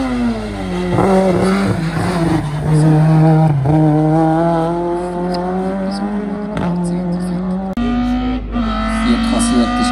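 A Volkswagen Golf race car at the Hemberg hill climb race in 2022 accelerates hard, its loud engine rising and dropping through several gear changes, with a commentator talking over it throughout.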